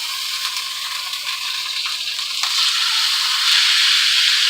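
A pan of cooked ground beef for enchiladas is shaken and tipped to pour off the grease, making a close, continuous hissing rush that grows louder and brighter toward the end.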